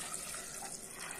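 Water poured into a bowl of peanuts left soaking for two hours, for a sweet sundal; a steady, close splashing flow runs throughout with no talk.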